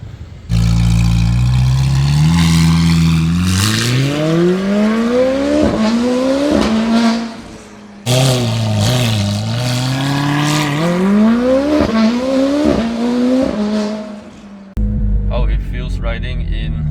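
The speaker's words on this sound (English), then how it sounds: "800 horsepower Novitec Stage 2 McLaren 720S" An 800-horsepower Novitec Stage 2 McLaren 720S accelerates hard in two loud, close pulls, its engine note climbing sharply through quick upshifts with brief dips between gears, then cutting to a lower, rougher sound at the end.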